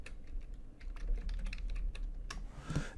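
Quick, light keystrokes on a computer keyboard, a scattered run of close clicks with short pauses, fairly quiet, ending in a slightly louder flurry of taps.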